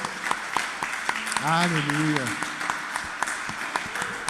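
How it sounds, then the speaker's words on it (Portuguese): Church congregation clapping in sustained applause during an evening worship service, with a preacher's voice calling out over the steady patter of hands. "Aplauda o Senhor com a sua melhor salva de palmas essa noite."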